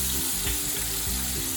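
Whole spices, two black cardamoms, green cardamoms and a piece of cinnamon, go into masala for mutton yakhni pulao, setting off a steady, loud sizzle and crackle in the pan with faint stirring.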